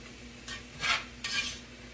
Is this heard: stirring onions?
yes